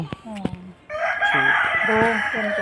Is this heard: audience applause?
no